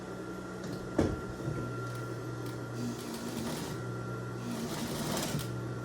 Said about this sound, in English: I'm just going to turn over kind of like a little shirt tail hem and start sewing.